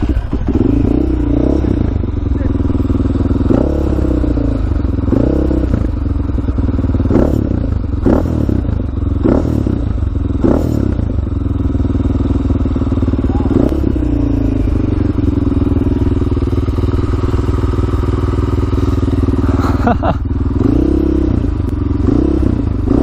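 A Honda 400ex quad fitted with a Stage 2 Hotcams engine cranks, fires and settles into a loud, steady, close-up idle, with blips of revving and mechanical clatter throughout.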